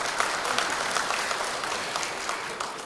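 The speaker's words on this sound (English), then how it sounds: "Let's give him a round of applause." An audience at a budget symposium gives a steady round of applause, a dense and even patter of many hands clapping continuously from start to finish.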